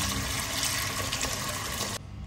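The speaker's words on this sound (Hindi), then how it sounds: "चावल को वॉश करेंगे अच्छी तरह से 2-3 बार" Water runs and splashes steadily as rice is washed at home for biryani, a dense, close rushing sound that drops off abruptly near the end.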